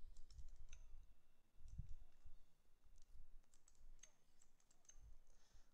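Computer keyboard keys pressed to cycle crosshair styles in a light-gun game setup, giving sparse, faint clicks over a steady low background hum.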